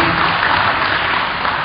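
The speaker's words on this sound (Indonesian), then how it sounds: "Tepuk tangan untuk Ibu Enda." A short burst of steady, dense clapping from a conference audience, loud and even throughout.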